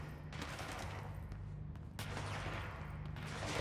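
Enemy gunfire from the video game Control comes as a steady barrage of rapid shots with a few sharper cracks, spread across a continuous rumbling din.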